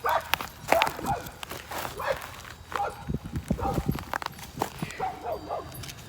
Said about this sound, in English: She barks at the grass growing.